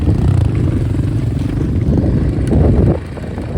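Several motorcycles, three or four of them, roar together outdoors on the steppe while chasing down a wild one-year-old bull. Their engines make a loud, continuous, close rumble with no voices heard.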